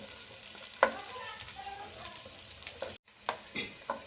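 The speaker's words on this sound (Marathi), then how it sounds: "आता कांदा आपल्याला चांगला मस्त गुलाबी होईपर्यंत तळून घ्यायचा आहे" Onion frying in a pan for pasta, a soft steady sizzle with occasional spoon scrapes and clinks from stirring, fairly quiet with one brief dropout.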